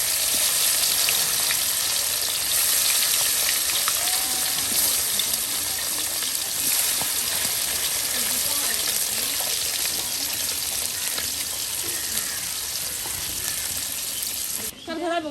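Fish sizzles steadily in hot oil during traditional village cooking, a loud continuous crackling hiss close by that persists throughout with little change.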